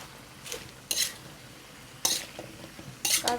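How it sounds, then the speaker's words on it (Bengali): Malabar spinach stirred into a spice paste frying in a pan, with a few sharp scraping and sizzling bursts from the spatula against the pan over a low background hiss. "মশলাটা কষানো হয়ে গেলে তাতে দিয়ে দেবো পুঁই শাক।"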